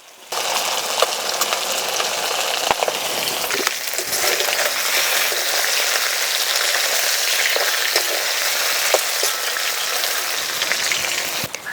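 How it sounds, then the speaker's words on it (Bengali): Mourala fish frying in hot oil, a loud continuous sizzle and crackle with scattered pops, steady throughout with no talk. "মাছ লাল লাল করে ভেজে নিলাম।"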